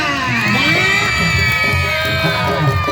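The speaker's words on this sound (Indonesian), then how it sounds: "tepuk tangan semua" A village audience at a Sundanese comedy show erupts in loud cheering, shouts and whoops, voices crowding together continuously and energetically with no distinct clapping standing out.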